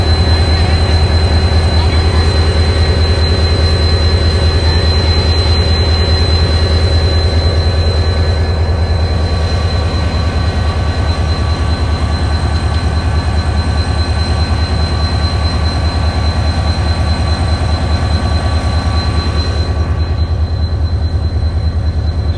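A passenger train pulls into Tando Adam railway station on a foggy winter day, its loud, steady rumble and rolling wheels carrying on for over twenty seconds alongside a constant high tone.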